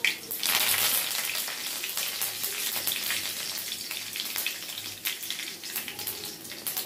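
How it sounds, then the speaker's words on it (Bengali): Whole black mustard seeds and curry leaves crackle and sizzle in hot oil, a dense, steady spitting that runs loud and close from start to finish, with no talking. "গোটা সর্ষেটা তেলে দিয়ে এরকম চটপট চটপট আওয়াজ হওয়ার পর দিয়ে দিচ্ছি 10 থেকে 12টা কারি পাতা।"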